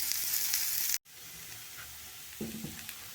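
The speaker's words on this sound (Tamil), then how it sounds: "வெங்காயத்தோடு கேரட் போட்டுடலாம் நல்லா வதக்கிடலாம்" Onion and carrot sautéing with fennel seeds in a pan, a soft frying hiss that cuts out abruptly, then resumes quieter, with a brief scraping stir near the end.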